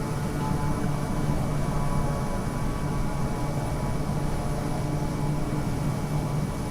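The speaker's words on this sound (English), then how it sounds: "It's full blast and I slow down the revs, but I don't know why it's noisy." A noisy airplane engine running at full throttle in Microsoft Flight Simulator, a steady loud drone with a constant hum that holds evenly throughout, with no voices over it.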